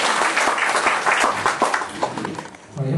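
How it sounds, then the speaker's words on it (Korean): A church congregation claps warmly to welcome its district leader to the pulpit. The applause is thick and crowded, then thins and fades toward the end. "박수로 모시겠습니다."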